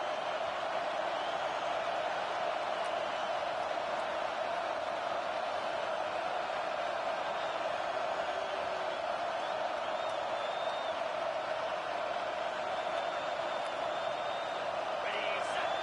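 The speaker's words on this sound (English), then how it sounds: "this big crowd doing everything possible to inspire this defense down here near the goal line" A big crowd at a football game roars steadily as the home defense lines up near the goal line, a dense, continuous wash of cheering voices with no clear breaks.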